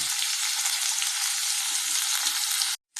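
Onions sautéing in a pan for a village-style jalebi fish curry, a steady loud sizzle filling the whole clip before cutting off abruptly near the end.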